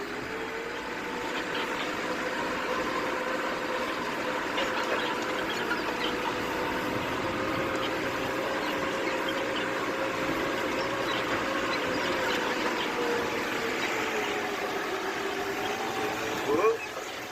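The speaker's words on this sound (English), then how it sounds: "Let's now park the tractor away." A 6420 tractor's engine idles steadily on a farm while being parked, a continuous mid-pitched hum with a faint shifting whine, unbroken for the whole stretch.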